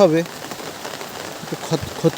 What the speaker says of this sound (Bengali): বৃষ্টিতে কী যে ভালো লাগছে আমার